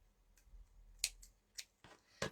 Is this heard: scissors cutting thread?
yes